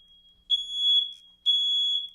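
A smoke alarm sounds two loud, shrill beeps, each held for about half a second with a short gap between, and no voices.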